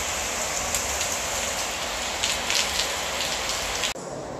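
Steady rain falling on a Friday afternoon in Merida, Mexico, a dense continuous hiss of drops on surfaces, close and unbroken, with no voices, cutting off abruptly near the end.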